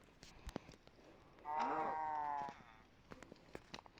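A single cow moos in a video game for about a second, loud and close, between faint scattered clicks and taps.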